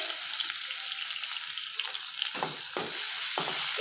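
Two finely chopped onions fry with cumin in ghee over a lowered flame, giving a steady, close crackling sizzle, then several louder bursts as the pieces are stirred.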